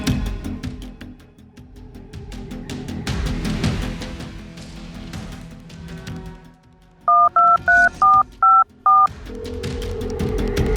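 A telephone keypad dialing a call, six short, evenly spaced touch-tone beeps in a quick row, clear and close, after a stretch of low background noise.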